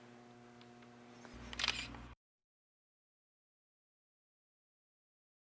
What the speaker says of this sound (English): press the shutter all the way down to take the picture.